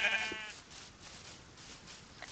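Sheep bleat in the Minecraft video game, one short bleat near the start over a steady hiss of background game audio.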